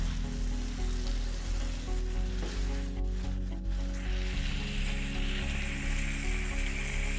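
Prawn fry sizzles in a pan with a dense, continuous crackle that holds steady throughout, close and even, with no voices.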